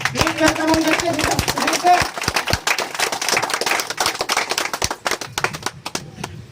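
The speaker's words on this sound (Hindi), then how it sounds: "आप लोग खड़े होके जोरदार ताली से स्वागत करेंगे" An audience stands to give a warm welcoming round of applause at a corporate event, a dense burst of many hands clapping that thins out toward the end.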